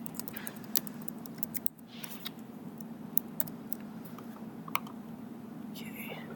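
Scattered computer keyboard taps and clicks, irregular and fairly soft, over a steady room hum with low murmured speech in the background.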